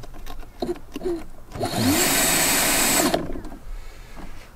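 A cordless drill motor used to drive a boat whirs up, runs at a high steady whine for just over a second, then winds down, loud and close between quieter handling noises.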